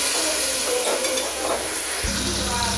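Spice paste sizzles loudly in a hot pan as a cup of water is poured in, the frying hiss shifting to a steadier, deeper bubbling toward the end; no talking.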